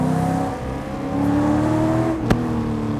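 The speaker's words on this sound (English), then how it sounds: "Even though it's a stock bottom end LS1, still makes 421 horsepower at the wheels." A stock-bottom-end LS1 V8 car engine rumbles nearby, its pitch rising and falling through a couple of revs with a brief sharp click near the end.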